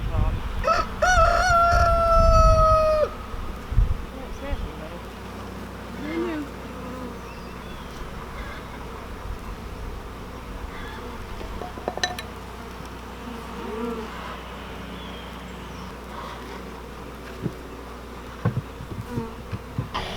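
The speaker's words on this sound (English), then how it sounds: "These are very gentle bees." Bees hum and drone steadily around the listener, with a rooster crowing loudly near the start and occasional rustling and faint voices.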